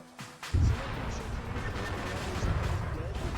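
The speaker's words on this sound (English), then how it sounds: "We have cannons now firing on the armored cars" Cannon fire pounding armored cars in a World War 1 battle in the game Arma 3, a heavy boom near the start followed by rumbling blasts and crashes, with voices talking over the fighting.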